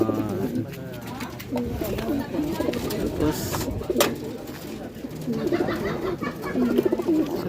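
Racing pigeons coo in soft, rolling bursts close by, with people talking over and between the calls.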